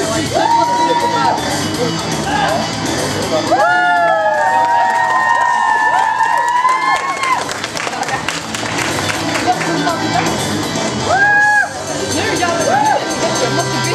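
A crowd at a cosplay show cheers, whoops and claps for a contestant, loud and close. Shouting voices rise over the applause, and an announcer speaks through it.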